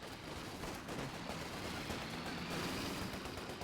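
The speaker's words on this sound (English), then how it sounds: "And the Vickers K-mounted variant will continue to fire." A Vickers K machine gun fires in a multiplayer war video game, with rapid bursts of gunfire under continuous distant battle noise, fairly faint overall.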